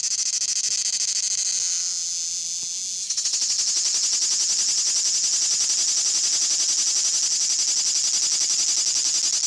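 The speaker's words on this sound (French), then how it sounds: "Les cigales qui rient dans la chaleur." Cicadas sing in the summer heat, a bright, rapidly pulsing buzz that grows louder and denser partway through, then carries on steadily and close at hand, with no voices.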